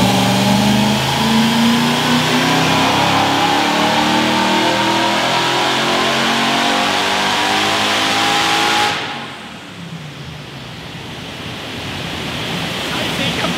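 A supercharged Mercedes C43 AMG with the M113K engine revs hard on a dyno, a loud sustained roar climbing for about nine seconds before cutting off abruptly to a lower, fading drone.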